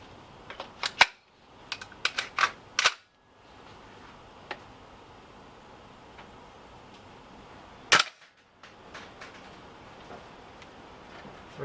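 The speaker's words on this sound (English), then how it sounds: "So let's shoot the second magazine, and let's check out the FPS." A VFC 417 gas blowback airsoft rifle fires in bursts of sharp, snappy cracks with mechanical clacks, two quick clusters and then a single shot, in a quiet room.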